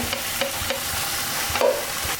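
Coriander powder and garlic paste sizzle in hot oil for a fish curry with drumsticks and potatoes, a steady close frying hiss with a few soft clinks of a utensil against the pan, no talking.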